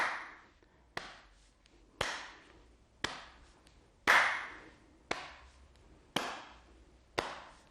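Hands clap in a steady seated chair-exercise routine, eight sharp, evenly spaced claps about once a second, each ringing briefly in the room, with no talking.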